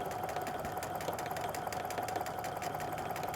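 A sewing machine stitches a backpack center seam in one steady run, its needle chattering rapidly and evenly at moderate, close volume with no pauses or talk.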